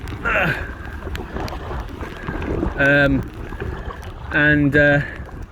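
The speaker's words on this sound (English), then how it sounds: "Oh my god, the wind, hang on." Strong gusts on Loch Lomond around an Aqua Marina Steam 412 inflatable kayak on choppy water, a heavy low buffeting rumble across the microphone, with someone talking over it.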